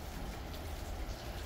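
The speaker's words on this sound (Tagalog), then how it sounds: "natuloy din yung ulan" Steady rain falls on garden plants, a dense, even hiss of drops heard close and alone throughout, with no voices.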